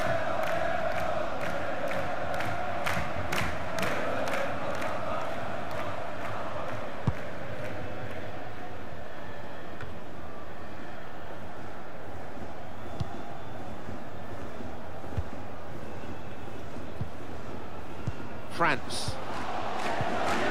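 Stadium crowd noise from the football video game FIFA 19, during a DSC Arminia Bielefeld vs SC Freiburg match, a steady broad roar of cheering spectators that swells slightly and holds throughout, with faint chants and whistles.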